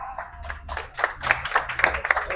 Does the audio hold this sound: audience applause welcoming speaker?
yes